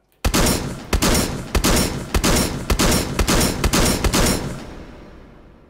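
A shotgun fires in the VR shooting game Hot Dogs, Horseshoes & Hand Grenades. About eight loud blasts come in quick succession, each with a booming tail, then the sound fades out.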